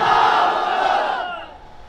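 A large crowd at a public rally in Bahraich, Uttar Pradesh roars a slogan back in unison, loud and sustained, then fading as the shout dies away.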